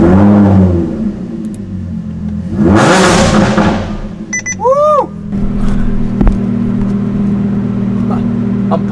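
MV Agusta F3 motorcycle with a triple exhaust pipe, its engine rumbling and revving in swelling bursts, loud and close, with some voices mixed in.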